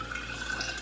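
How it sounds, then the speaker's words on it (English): Water poured into a mason jar of sprouts, a quiet steady trickle and splash heard close by and alone. "And I can just pour it right in the top."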